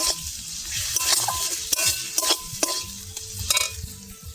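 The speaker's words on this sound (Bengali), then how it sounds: "এবার দিয়ে দিচ্ছি একটু গরম মশলা অল্প করে, ফের কষিয়ে নেবো ভালো করে নেড়ে চেড়ে।" Egg curry masala with garam masala being stir-fried in a pan, soft sizzling broken by repeated scraping strokes of a spatula against the metal, close and irregular, no voices.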